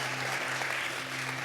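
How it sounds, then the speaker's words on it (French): A church congregation applauds in a steady, even wash of clapping, dense and moderately loud, with a low steady hum running underneath throughout. "Est-ce qu'on peut applaudir pour le Seigneur,"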